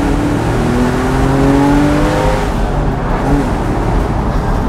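A 2006 Porsche 911 Carrera 4S Cabriolet accelerates with a steady, loud engine drone that climbs in pitch through a gear before it settles. The sound is heard from the cabin and continues with no talk.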